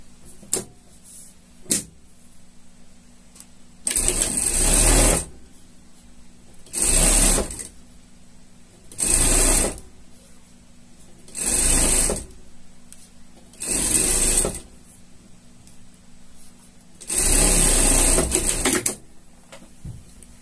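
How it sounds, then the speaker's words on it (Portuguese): A domestic sewing machine stitches two fabric pieces together for a shark costume, running in six steady bursts of one to two seconds each with brief pauses between, close and loud with no talking. "vamos passar uma costura aqui, juntando as duas peças"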